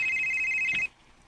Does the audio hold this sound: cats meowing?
no